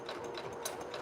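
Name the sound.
sewing machine stitching denim shorts pocket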